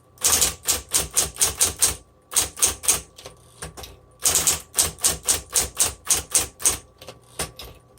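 Brisk typing on a 1960s Smith Corona Coronet electric typewriter: close, loud bursts of rapid key strikes in quick runs, separated by short pauses, with a faint motor hum underneath.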